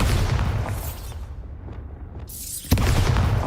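An exploding Bombarda spell in the video game Hogwarts Legacy: loud, rumbling blast noise that thins out for a moment, then a sharp new boom hits and the roar swells back.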